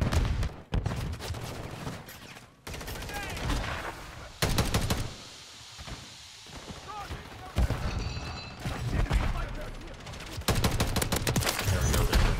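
Battle rifle gunfire in Call of Duty: Modern Warfare multiplayer, with loud repeated bursts of shots separated by brief lulls and a voice talking over parts of the action.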